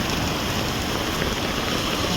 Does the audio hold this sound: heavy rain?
yes